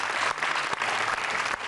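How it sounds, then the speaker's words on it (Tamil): Studio audience on a Tamil children's TV game show applauding, a steady wash of clapping that runs dense and loud through the whole moment with no voices over it. "கைதட்டுங்க."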